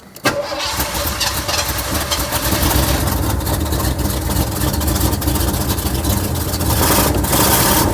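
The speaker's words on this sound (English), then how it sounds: "Now the moment of truth, we're going to try and start it up." A 1979 Cadillac Seville with fuel injection, just fitted with a new fuel pump, cranks and fires, then settles into a loud, steady, close-up idle with no talking.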